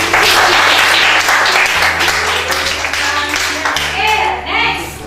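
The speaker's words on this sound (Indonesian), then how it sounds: "Tepuk tangan dong" A physics class on static electricity and lightning breaks into quick applause from the students. The clapping is loud and comes in bursts over a steady low hum, with faint voices mixed in.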